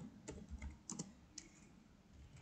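Keys on a computer keyboard being typed in a few quiet, scattered bursts of light clicks separated by short pauses, with no one speaking.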